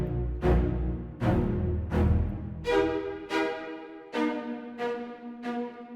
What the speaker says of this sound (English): this is the sound when you play the violin or any string instrument and the bow lifts off the string